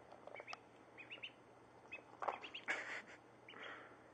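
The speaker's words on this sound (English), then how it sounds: "They're ducks." Pet ducks eating lettuce make soft quacks and chirpy calls in short scattered bursts, close and fairly quiet, with brief pauses between them.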